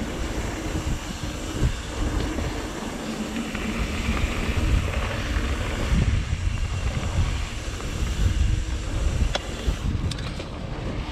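Steady, loud wind roars and buffets throughout on a lakeside trail in Flower Mound, Texas, a broad rushing noise with gusts, alone without voices.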